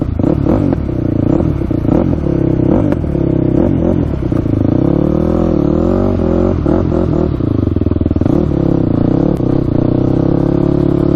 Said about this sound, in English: Just gonna try to blip the throttle a little bit here and there.